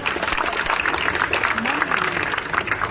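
Audience applause at a Bangladeshi street play, a steady wash of clapping that runs throughout at moderate loudness with a faint voice briefly audible.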